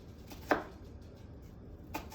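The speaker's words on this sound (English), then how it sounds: "And then right over the onion again and the knife, and we're just cutting with the heel." A knife heel cuts down through an onion on a board, two sharp chops landing about a second and a half apart, close and fairly quiet against a soft kitchen background.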